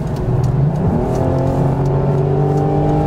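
A right-hand-drive Audi TT V6 tuned by ABT accelerates hard on a wet road, its engine note climbing steadily in pitch, loud and close throughout with no talking.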